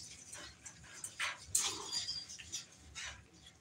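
Puppies at a kennel whimper and squeak in thin, high, intermittent cries, fairly faint and close, with small shuffling sounds between the whines.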